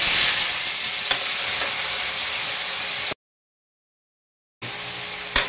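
Vegetables fry in hot cooking oil for a home-cooked lunch dish, a steady loud sizzle and hiss with faint stirring clicks, cut by a sudden silent gap before the frying resumes.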